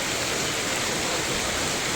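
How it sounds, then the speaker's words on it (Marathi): Steady rain falling outdoors, a dense continuous hiss that stays even and fairly loud throughout, with no voices. "पाऊस चालू झाला बघा."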